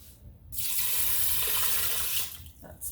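Water gushing from a tap into an Instant Pot holding brown rice, a steady bright rush for about two seconds before tapering off, close and fairly loud.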